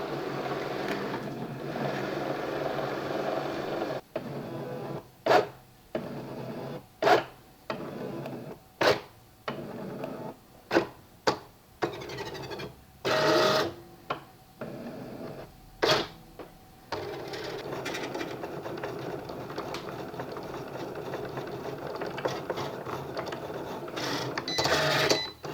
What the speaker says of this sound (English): go ahead and put this in your Cricut, just load it up, and it's going to read the registration marks